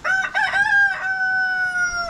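A rooster crows loudly and close among a backyard flock of Dominique, Rhode Island Red and buff chickens, one long drawn-out cock-a-doodle-doo with a sustained tail, heard alone.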